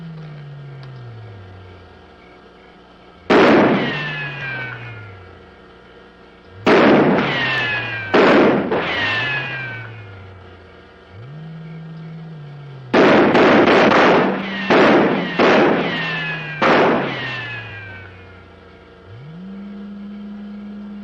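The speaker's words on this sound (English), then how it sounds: "Go ahead, Corporal. Fire a few rounds." Gunfire rounds from the 1957 science-fiction film Invasion of the Saucer Men: several loud bursts of rapid shots in clusters separated by pauses, over a low droning musical score with no talking.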